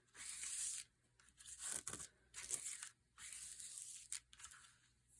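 Paper rips close by in several long tearing strokes separated by short pauses, each tear a harsh, crackly rasp.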